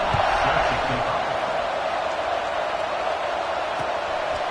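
Football stadium crowd at a South Carolina vs Iowa college game buzzing after a score, a steady loud wash of many voices right before a kickoff, continuous and close throughout.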